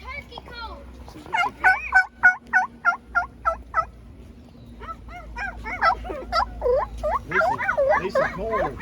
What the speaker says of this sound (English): there we got turkeys